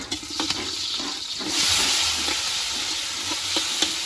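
Food fries in oil left over from frying fish, a loud close sizzle and hiss with stirring and scraping clicks over a few seconds.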